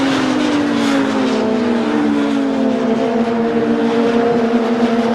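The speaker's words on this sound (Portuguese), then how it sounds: "o motor turbo diesel do Seat rende muito em linha reta" A Seat turbo diesel touring car races in a 2008 WTCC race at Curitiba, its engine a loud, close, sustained drone that holds a steady pitch throughout, with no voices.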